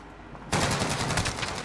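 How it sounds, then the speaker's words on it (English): Rapid sniper-rifle fire from a Dragunov in a shooter video game, a loud dense burst of repeated shots starting abruptly after a quiet half second and continuing steadily to the end. "Matt, someone's running the Dragunov"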